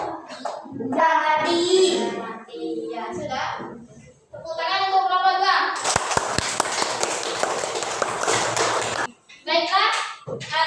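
Children in a primary classroom science lesson applaud a group, a burst of clapping lasting about three seconds between stretches of a teacher and kids talking.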